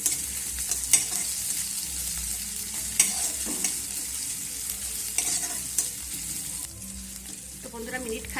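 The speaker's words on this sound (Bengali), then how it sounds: "এবার সব কিছু আমি তেলে ভালো করে ভেজে নেব" Chopped green chili with grated ginger and garlic sizzle loudly in hot oil, a steady close frying hiss broken by occasional stirring clinks and scrapes, with no voices.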